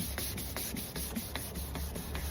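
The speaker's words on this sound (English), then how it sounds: "Put your 600 grit on your block and you sand." A steady, soft abrasive rubbing as 600-grit sandpaper on a block works back and forth across a wet, sprayed truck headlight lens, faint and continuous with light rhythmic strokes and no talk.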